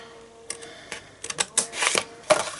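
A few sharp snips of scissors cutting paper, irregular and close, getting busier toward the end over a quiet room.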